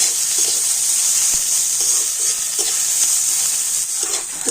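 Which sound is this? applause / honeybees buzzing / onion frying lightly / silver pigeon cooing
onion frying lightly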